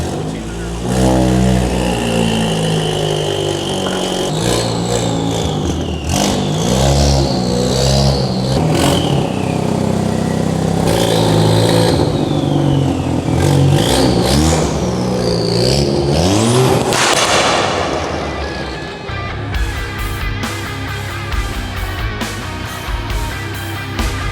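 A car's engine revs repeatedly at close range as it is driven into a garage, with rising and falling revs through most of the stretch and a person talking over it.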